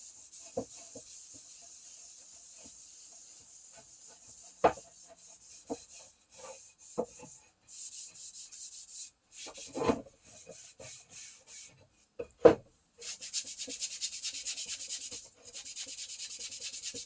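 A clean rag rubs beeswax into a wooden cheese or bread board, making soft, close swishing strokes in bursts, punctuated by a few sharp knocks and taps.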